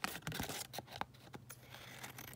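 Scissors or hands cut through a page of paper while making a flapped pocket, a quiet run of crisp snips and tearing crinkles up close, with no talk.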